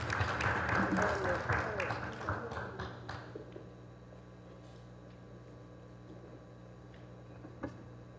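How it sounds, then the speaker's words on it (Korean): An audience at a construction policy forum claps to welcome the moderator of a panel discussion, a burst of dense applause that tapers off after about three seconds into a quiet room. "박수로 환영해 주시기 바랍니다"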